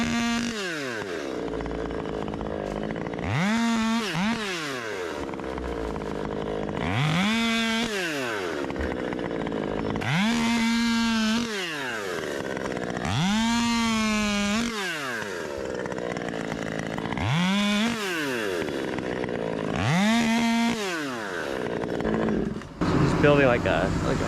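A 39cc top-handle chainsaw revs hard again and again, about six times, each burst climbing to a loud, close, buzzing whine before dropping back to a rough idle between pulls.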